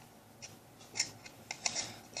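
Scissors snip and crush powdered blush and eyeshadow inside a small container, making a series of quiet, crisp clicks and scrapes at an irregular pace, close up.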